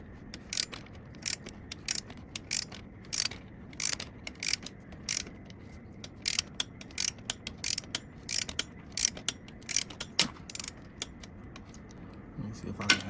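A hand ratchet tightening a bolt on the front cover of a Dodge R/T engine, clicking in quick irregular bursts of rapid pawl ticks, close and fairly quiet, with pauses between strokes.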